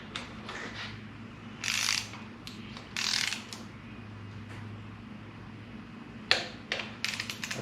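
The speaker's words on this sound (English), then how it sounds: "So I'm gonna go ahead and get these torqued down" A ratchet torque wrench tightens bolts on a Chevy 5.7 Vortec V8 engine, giving bursts of close mechanical clicking and ratcheting at irregular intervals, with quieter pauses between strokes and a faint steady hum underneath.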